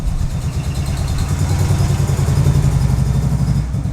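A Mazda FD RX-7 rotary engine, started after over ten years, runs with a steady rumbling idle that rises slightly in the middle, close by, with no voices.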